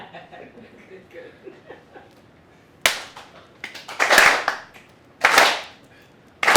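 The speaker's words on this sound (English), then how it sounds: "I need y'all to clap with me" An audience at a live rap performance claps along, starting with scattered quieter voices and murmurs, then breaking into sharp, loud bursts of clapping and cheering toward the end.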